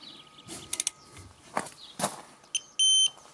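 Faint clicks and ratcheting of a VANPO digital torque wrench set to 100 Nm lead into a short electronic beep at set torque, then a longer steady tone near the end.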